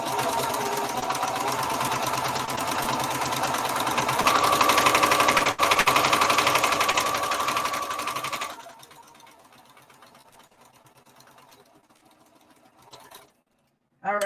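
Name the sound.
sewing machine stitching scuba skirt side seam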